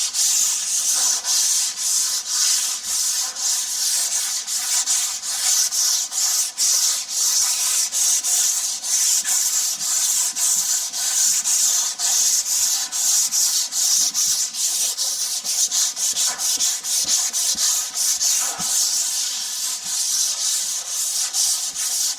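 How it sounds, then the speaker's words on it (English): Sandpaper rubs over a drywall patch with a self-adhesive mesh patch after its second coat of compound. The scraping is loud, close and continuous, with quick back-and-forth strokes throughout and no talking. "we do the sanding next"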